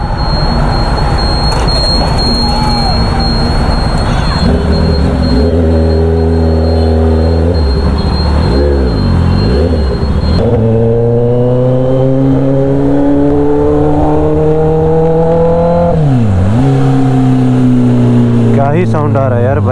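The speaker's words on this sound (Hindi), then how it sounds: "साउंड आ रहा है यार बाइक का," A Kawasaki ZX10R motorcycle engine revs loudly and repeatedly up close, its pitch climbing and falling in several sharp throttle blips over a constant idle, with talk mixed in.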